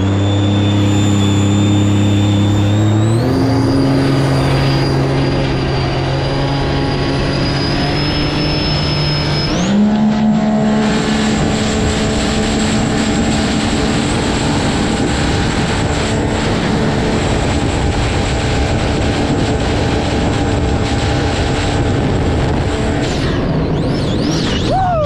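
A Sea-Doo personal watercraft with a JP Racing Stage 2 setup screams at high revs on a lake, stepping up in pitch as it accelerates toward a sustained top-speed whine, loud and continuous with wind rush.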